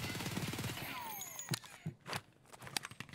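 Gunfire in Escape from Tarkov comes through walls as several sharp, separate cracks spaced irregularly, fairly loud against an otherwise quiet background.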